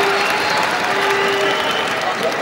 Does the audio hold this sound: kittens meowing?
no